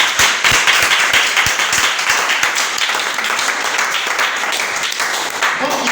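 A church congregation applauds together at a sermon, dense overlapping hand claps sustained loudly and steadily throughout, with a few sharper individual claps standing out near the start.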